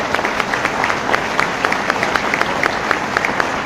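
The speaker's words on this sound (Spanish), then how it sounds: "sí, hay que aplaudirle." Audience applause at a public talk on the Battle of Tenochtitlan, a steady patter of many hands clapping at close range, even and sustained with no voices over it.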